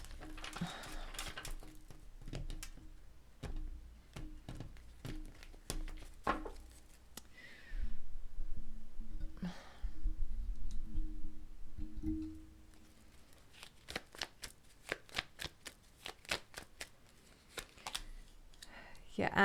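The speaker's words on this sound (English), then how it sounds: "Give these a good shuffle" Tarot cards shuffled by hand in bursts of rapid crisp riffles and taps, quiet and close, with pauses between rounds and no talking.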